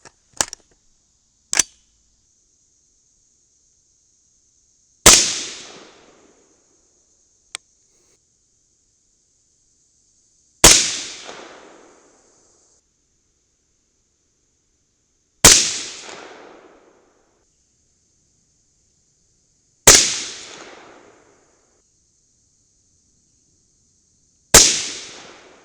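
A Mk 262 clone rifle firing Nosler bullets loaded with CFE223 powder lets off about seven sharp, loud shots, two close together and the rest spaced several seconds apart, each with a short decaying echo over a faint background whine.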